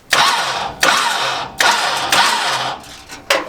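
A farm truck engine cranks and catches several times in a row, each loud start surging abruptly, then roaring briefly before cutting off; no talking.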